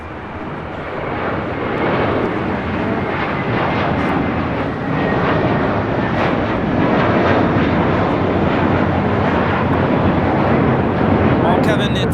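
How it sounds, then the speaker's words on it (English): A JetBlue Airways Airbus A321 departs with a powerful, continuous jet engine roar that swells slightly and stays loud and near for the whole stretch, filling the scene. "Taking off JFK, JetBlue Airways 424 and A321"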